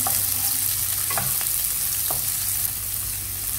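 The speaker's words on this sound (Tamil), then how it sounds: "பூண்டு வதங்கிடுச்சு கொஞ்சம் இப்போ வெங்காயம் போட்டுருவோம்" Garlic sizzles in oil in a pan as onion goes in, a dense continuous frying hiss with a few brief clicks of stirring, close and fairly loud.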